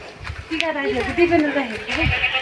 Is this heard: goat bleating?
yes